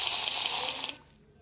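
A splash into water in the Minecraft video game: a bright, broad watery rush that holds steady for about a second and then cuts off, with no talk over it.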